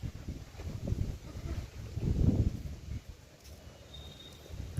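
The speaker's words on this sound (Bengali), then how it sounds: "বন্ধুরা আপনারা পাচ্ছেন ঝড়টা" Gusty storm wind from a Kal Baishakhi squall buffets the microphone in uneven low rumbles that swell and fade, fairly quiet overall.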